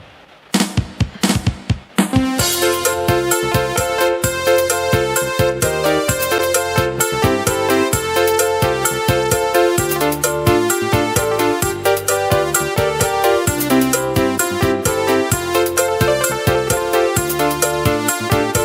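A recording from a Yamaha PSR E463 keyboard plays back: a few opening notes, then a full, continuous arrangement with chords, melody and steady rhythm, clean and free of background noise.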